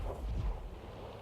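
A tank gun fires a round in the World of Tanks game, a single heavy low boom that rumbles briefly and fades, close and loud.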